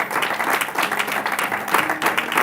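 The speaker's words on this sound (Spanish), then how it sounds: "Dele ese fuerte aplauso a Jesús." A Spanish-speaking church congregation gives strong applause during a sermon, a loud, dense, continuous roar of many hands clapping with crowd voices mixed in.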